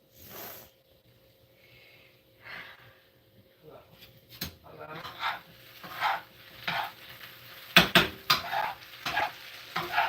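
Taco shells fry in oil for a vegan breakfast, bursts of sizzling and crackle rising and falling with clatter of utensils, while a person talks over the cooking.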